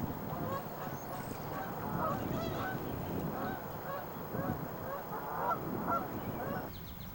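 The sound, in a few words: Canada geese honking on a pond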